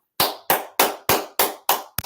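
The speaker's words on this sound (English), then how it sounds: "So give yourself a round of applause." Seven sharp hand claps land in a steady, evenly spaced rhythm, each ringing briefly before the next, close and fairly loud with no voices.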